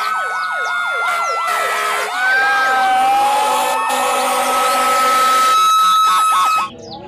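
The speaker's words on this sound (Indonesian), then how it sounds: "Ini ada mobil pemadam kebakaran." A toy fire truck's electronic siren wails in a fast, repeating up-and-down pattern, loud and close, holding steady for about six seconds before cutting off abruptly near the end.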